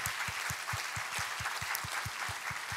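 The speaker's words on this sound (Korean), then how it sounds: "우리 하나님께 감사와 영광의 박수 올려드리겠습니다." A Sunday church congregation claps in thanks and praise, dense steady applause with a strong rhythmic beat of unison claps running through it at moderate volume.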